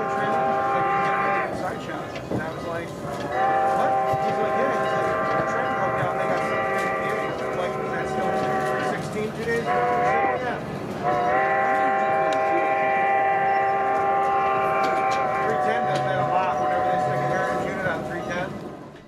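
A steam locomotive on the Strasburg Rail Road sounds a loud, sustained whistle that stops and starts across the stretch, with a steady rumbling beneath it.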